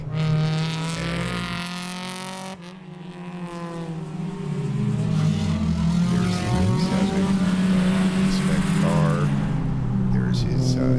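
Race cars of the IT, B-Spec and Touring classes roar past in quick succession at Sebring, engines rising and falling in pitch as they pass, loud and continuous with no pause.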